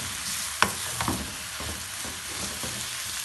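Tomatoes being stirred and fried on a tawa for chicken, with a soft steady sizzle and a few sharp utensil scrapes against the pan, close and without talk.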